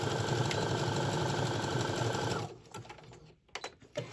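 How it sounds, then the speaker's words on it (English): A sewing machine runs in a fast, steady whir while stitching off the end of a prayer quilt, then stops abruptly about halfway through, followed by a few soft handling clicks and rustles. "I'm going to go ahead and finish sewing off the end"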